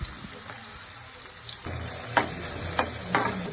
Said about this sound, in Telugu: ఆనియన్, కట్ చేసిన ఆనియన్ వేసుకోవాలి ఫస్ట్.